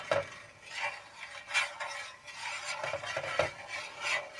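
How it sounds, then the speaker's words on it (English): Milk being stirred in a pot while it heats toward simmering, close repeated utensil scrapes against the pot in an uneven rhythm of about eight strokes, with no talking. "continually stir the milk until it comes up to a temperature where it starts to bubble along the edges"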